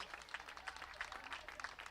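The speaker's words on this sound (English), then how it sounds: "Big round of applause" Scattered applause from a modest crowd at a softball game greets the pitcher during a pitching change, faint and distant, a thin patter of claps carrying on for a couple of seconds.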